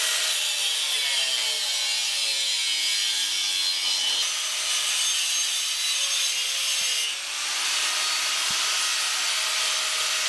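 A saw cuts steadily through wood for a skoolie deck, a thin-kerf blade giving a continuous bright rasping that runs close and loud for about ten seconds, with a short lull near the end and no voices.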